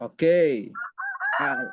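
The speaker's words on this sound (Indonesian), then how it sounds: "Antum puas-puasin aja lah denger ayam bekokok." A rooster crows nearby in a single drawn-out call with a rising then trailing tone, briefly overlapping a person speaking.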